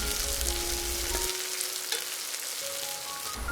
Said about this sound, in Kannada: ಇದನ್ನು ಈಗ ಈರುಳ್ಳಿ ಚೆನ್ನಾಗಿ ಫ್ರೈ ಆಗುವವರೆಗೂ ಹುರಿದುಕೊಳ್ಳಿ ಆಮೇಲೆ ಇದಕ್ಕೆ ಸ್ವಲ್ಪ ಪುದೀನ ಸೊಪ್ಪು ಹಾಕ್ಕೊಂಡು ಚೆನ್ನಾಗಿ ಬಾಡಿಸಿಕೊಳ್ಳಿ